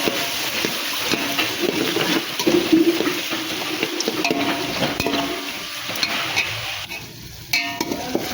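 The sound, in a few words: stirring onions and tomatoes sautéing in a pan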